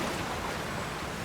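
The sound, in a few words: waterfall in a Nintendo video game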